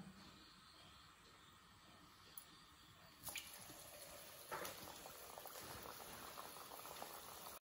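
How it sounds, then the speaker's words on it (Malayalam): Rice murukku frying in hot coconut oil gives a steady, soft bubbling and fizzing that runs throughout, quiet and close with no voices. "വെളിച്ചെണ്ണ ചൂടായിട്ടുണ്ട്, നന്നായിട്ട് തിളച്ചിട്ടുണ്ട്."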